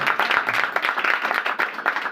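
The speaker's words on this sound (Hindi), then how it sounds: "जोरदार ताली दें।" A church congregation at a prayer meeting clapping loudly, a dense, close burst of applause lasting about two seconds.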